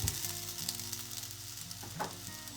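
Hot water meets dry-roasted rice in a thick-bottomed pot for chamre bhat, giving a strong, close sizzle and crackle that persists throughout, with a brief surge of bubbling hiss near the end.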